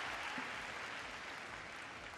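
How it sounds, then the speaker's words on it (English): A home crowd in France applauds ice dancers after their performance, sustained dense clapping from a large arena audience, steady throughout and heard from a distance. "they take applause from the home crowd"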